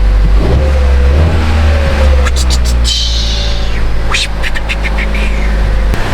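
A Buick Encore brought in on a tow with a no-crank, no-communication fault idles with a loud, steady low rumble in a workshop, while scattered clicks and brief rattles sound over the engine.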